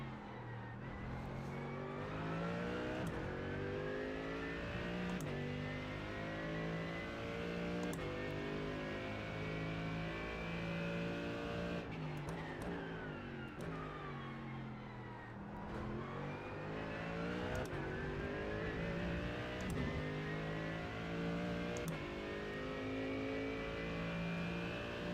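Race car engines in iRacing at Spa during a long endurance charity race, revving hard through repeated upshifts and downshifts, rising and falling pitch sweeps, loud and continuous with no talking.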